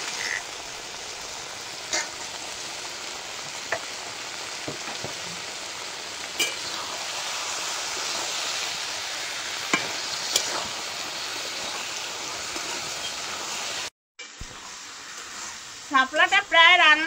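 Water lily stems cooking in a pan with cumin paste and shrimp sizzle steadily for a long stretch, with occasional sharp clinks of stirring; after a brief break, a voice is heard over the cooking near the end.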